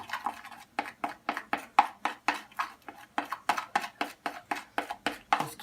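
Thick Aztec healing clay and apple cider vinegar being stirred into a paste in a bowl, a steady run of quick, soft wet scraping strokes at close range with no talking.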